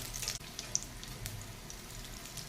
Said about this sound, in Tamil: ஒரு சைடு கொஞ்சம் ஃப்ரை ஆகட்டும்.